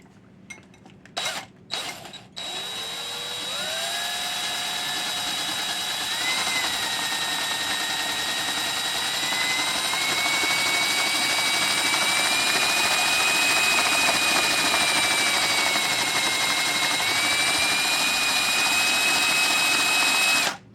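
A Binford 6100 high-speed mixer whipping cream, a few clicks and knocks, then a steady loud whine that climbs in pitch and holds until it cuts off at the end.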